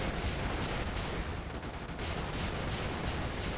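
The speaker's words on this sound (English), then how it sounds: "Oh, those are quite powerful howitzers." Powerful howitzer artillery firing in the Brigador game, a dense, rumbling barrage of booms and blasts that fills the whole stretch at moderate loudness.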